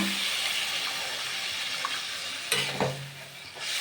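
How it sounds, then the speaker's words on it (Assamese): Fish fries with a steady sizzle in the pan, then a splash and rush of water hits the hot oil, briefly flaring the hiss. "এইফালে আমি এয়া পানী দি দিলোঁ"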